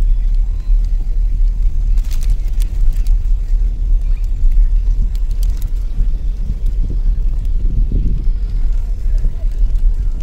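A small car on a test drive at a fair gives off a steady low engine rumble, heavily buffeted by wind against the microphone, with voices faintly mixed into the noise.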